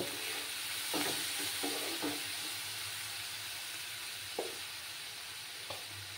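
Masala sizzles softly in a pan with a little water added, a low steady hiss with occasional scraping taps of a spatula, fairly faint.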